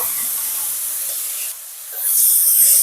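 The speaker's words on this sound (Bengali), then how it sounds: "আবার একটু ভেজে নেব।" Cabbage with ginger frying in a pan gives a steady broadband sizzle that dips briefly, then comes back louder and brighter, close and continuous with no talking.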